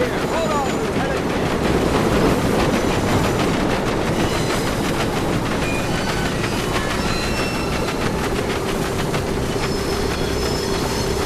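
A train runs on rails in the World War II shooter Medal of Honor: Above and Beyond, with a continuous loud rumble, wheel squeal and rhythmic clatter of the cars. Game voices are heard over it.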